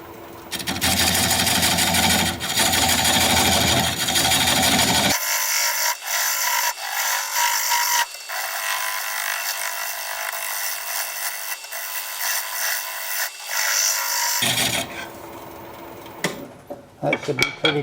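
Continuous loud whirring and scraping of a wood lathe as a cutting tool turns a tenon in ponderosa pine, dipping and changing tone midway, close and steady with no talking.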